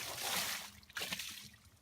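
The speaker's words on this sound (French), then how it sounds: "Alors on repasse de l'eau." Water is rinsed over an aluminium alloy wheel, making a soft spraying hiss that briefly swells and then trickles and splashes off in uneven spurts, fairly quiet and close.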